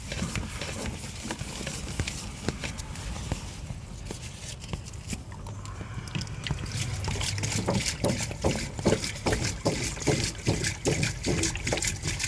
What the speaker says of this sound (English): then we'll introduce some water to the pipe